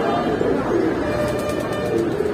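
A domestic pigeon coos softly and continuously at close range, a low murmuring call against the busy background of a pigeon market.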